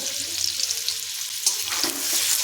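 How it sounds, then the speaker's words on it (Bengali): Boiled potatoes with turmeric and salt frying in hot oil over a high flame, a steady close sizzle with bursts of spattering and stirring. "হাই ফ্লেমে আলুগুলো দিয়ে দেবো"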